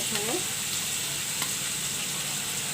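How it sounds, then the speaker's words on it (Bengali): Ginger and garlic fry in a pan for chicken korma, giving a continuous close sizzle with stirring scrapes and light clinks from the spoon. "আদা রসুনটা একটু ভেজে নিতে হবে, নাহলে গন্ধ করবে। একটু ভেজে নেব।"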